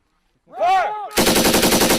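After a shouted command, a US Army M240 or M249 machine gun opens up with a loud, fast, evenly spaced automatic burst close by.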